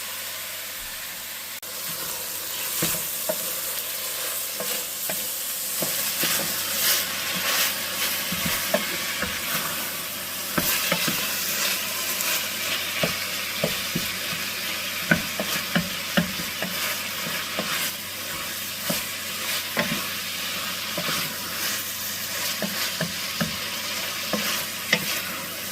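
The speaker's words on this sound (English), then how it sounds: "We're going to let that simmer together" Collard greens sizzle and bubble in a pan, a steady close frying hiss broken by the repeated scrape and clack of stirring, with no talking.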